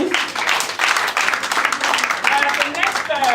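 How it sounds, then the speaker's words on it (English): A graduation ceremony audience claps in a steady, crisp patter that lasts throughout, with a voice briefly heard near the end. "A round of applause, please."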